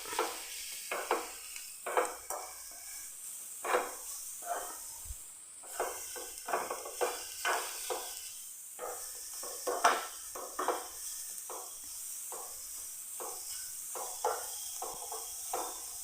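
Sugar is stirred into grated coconut in a pan on the stove, with soft scraping strokes and light clinks of a utensil against the pan repeating irregularly over a faint sizzle.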